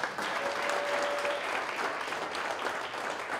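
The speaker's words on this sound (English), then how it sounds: "one more round of applause is due for everyone who participated today" A crowd applauds participants at the close of the Canyon Challenge 2019 event, loud sustained clapping from many people filling the whole stretch without a break.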